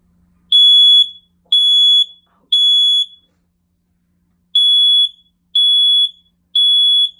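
A OneLink Safe and Sound smoke detector sounds its test alarm: three loud, piercing high beeps in an even rhythm, a pause of about a second, then three more, close and very loud.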